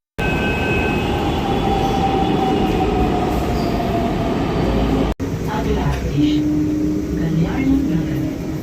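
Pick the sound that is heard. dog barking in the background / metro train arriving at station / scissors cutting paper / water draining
metro train arriving at station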